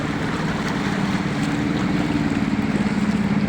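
Flood water rushes outside a house on Rincon Road in Valenzuela, a dense, steady churning wash with a low rumbling undertone, loud and close with no voices.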